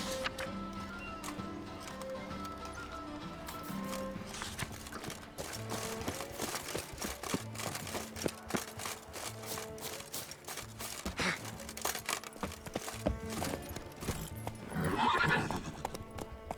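Roach the horse in The Witcher 3, heard as steady clip-clopping hooves trotting close by, with whinnies and snorting breaths mixed in throughout.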